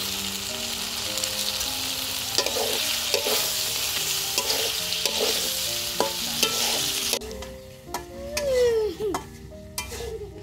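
Hilsa fish head fries in a spice paste of turmeric, coriander powder and salt while a spatula stirs and scrapes the pan, giving a continuous close sizzle with repeated scraping strokes; the sizzle thins toward the end as utensil clinks stand out.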